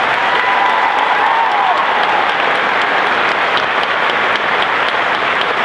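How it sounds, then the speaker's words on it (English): Steady, dense applause from a large audience at a school valedictory ceremony, loud and continuous throughout with a faint tonal element underneath. "Let's give them one more round of applause"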